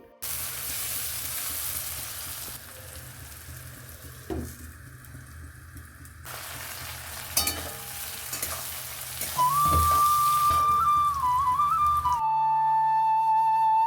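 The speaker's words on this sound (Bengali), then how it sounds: "পেঁয়াজটা ভাজা আমার হয়ে গেছে" Chopped onions frying in oil with bay leaves, cardamom, cloves, cinnamon and panch phoron, a steady loud sizzle with occasional stirring clatter and a brief whistling tone near the end.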